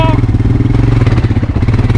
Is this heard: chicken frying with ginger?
no